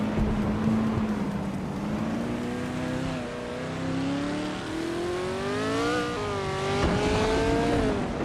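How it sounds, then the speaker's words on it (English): A 1968 Crossell 15F race car drives past with a sustained, loud engine drone whose pitch rises and falls as it revs through gears, steady and continuous with no talk. "Connor Malady is driving a 1968 Crossell 15F"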